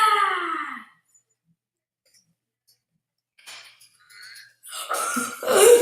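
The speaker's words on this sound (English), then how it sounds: "let's burp on this guy" A cartoonish burp sound effect in the Roblox game Baldi, one loud, falling, throaty belch at the start, followed by silence and then a few scattered, brief bursts of game noise.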